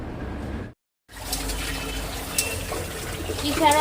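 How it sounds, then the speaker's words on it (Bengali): Lentils and ridge gourd being washed under a running kitchen tap, a steady splashing gush that breaks off for a moment near the start and then carries on, close and fairly loud. "ডালটা এখন ধুয়ে ঝিঙেগুলো ধুয়ে নেব"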